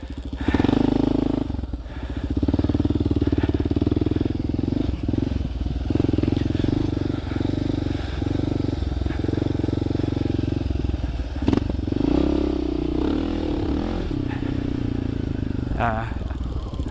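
Motorcycle on a race track powering out of a corner with the rear wheel spinning, a steady loud engine drone with throttle swells and brief revs throughout.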